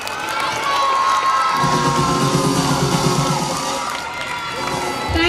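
A school audience at an English-medium school's annual day celebration claps and cheers loudly, children shouting and whooping in a sustained roar after a brief quieter start.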